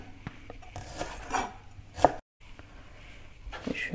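A knife cuts through a head of cabbage for kimchi on a board, close and clear, with a few scattered chops and one sharp cut near the middle.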